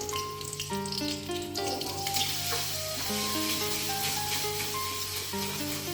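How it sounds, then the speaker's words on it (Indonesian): Garlic sautés in a pan, a continuous hissing sizzle held at an even level throughout, with a sustained background melody over it and no voices. "Tumis bawang putih hingga harum."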